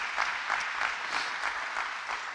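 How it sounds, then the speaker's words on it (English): Audience applause greets a guest speaker stepping up at a monthly club meeting, steady and sustained clapping from a roomful of people, even in intensity throughout. "Give him a round of applause."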